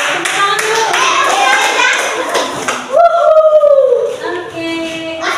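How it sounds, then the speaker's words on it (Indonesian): People in a classroom during a coding lesson give a quick round of hand claps, a burst of sharp, close, rapid slaps. Voices follow, including a sustained sung or called-out tone. "Tepuk tangan dulu."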